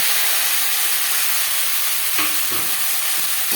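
Eggplant pieces frying in hot oil with bay leaf and five-spice (panch phoron) for a Bengali hilsa curry, a steady loud sizzle and hiss with a few stirring clatters near the end, no talking.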